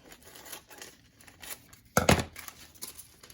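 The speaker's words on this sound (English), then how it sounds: "And then I trim this off so that I have a square." Scissors trimming handmade art paper into a square give a few crisp snips and rustles, with one louder cutting crunch in the middle, close and alone.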